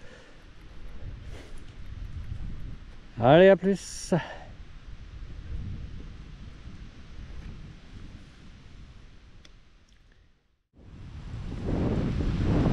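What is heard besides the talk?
wind blowing on a hillside during mountain biking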